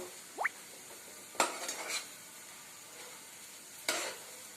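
A spoon mixes papad sandwich filling seasoned with chaat masala in a pan, with three or four distinct scraping strokes and light clinks over a faint sizzle, with no voices.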